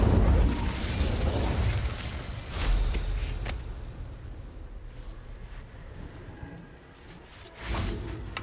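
The Incendio fire spell goes off in Hogwarts Legacy, a loud fiery burst that roars and fades, followed by a few further sharp impacts and whooshes.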